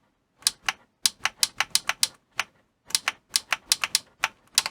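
Power switch on a Nerf Elite Laser Dot clicking repeatedly, sharp close plastic clicks in quick irregular bursts with short pauses, loud and alone.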